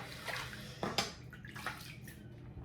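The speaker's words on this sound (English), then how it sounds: "we'll rinse the face." Water splashed onto the face to rinse it after a wet shave with a Blackland Blackbird titanium safety razor. Faint, quiet, irregular splashes and drips come close by, with no talking.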